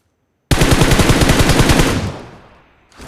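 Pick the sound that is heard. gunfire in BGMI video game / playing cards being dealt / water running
gunfire in BGMI video game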